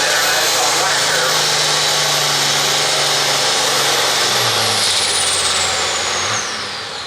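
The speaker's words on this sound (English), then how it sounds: "This Scout Runner International Tractor." A loud International tractor engine roars and revs steadily at a tractor pull in the 9,000 lb pro farm class, with a sustained high-pitched whine throughout that fades slightly at the end.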